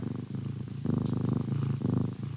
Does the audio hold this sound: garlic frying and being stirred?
no